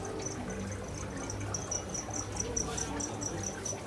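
Crickets kept in an aquarium shop chirp in a rapid, regular pulsing trill, steady and fairly close over a low background hum of water equipment.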